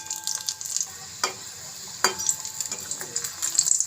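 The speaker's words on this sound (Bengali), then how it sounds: "এটা আমি লাল লাল করে ভেজে নেব।" Pakoras deep-fry in hot oil in a home kitchen, giving a continuous crackling sizzle with occasional sharp clinks of a utensil stirring against the pan, close and moderately quiet, with no talking.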